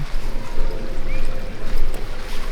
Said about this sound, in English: running water and crazy kids in a park.